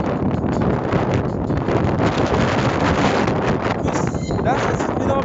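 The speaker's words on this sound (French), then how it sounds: "Là, ça souffle énormément. Genre, le vent se lève d'un coup." Strong gusting wind buffets a handheld phone microphone outdoors, a loud, continuous roaring rumble with no letup across the whole stretch.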